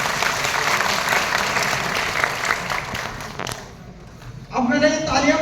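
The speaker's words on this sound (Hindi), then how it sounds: "तो अपने लिए जबरदस्त तालियां बजा लीजिए।" Dense, steady applause from a large audience at a program in Rewa fills about four seconds, then fades and gives way to a person speaking.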